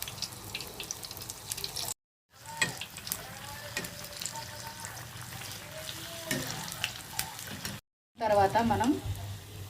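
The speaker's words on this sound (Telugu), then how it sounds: "కలుపుకున్న పిండిలో ఇలా మిర్చిని ముంచి ఆయిల్లో వేసుకోవాలి" Green chillies dipped in gram-flour batter hit hot oil for chilli bajji, frying with a steady bubbling sizzle and crackle that swells loudly near the end after two short gaps of silence.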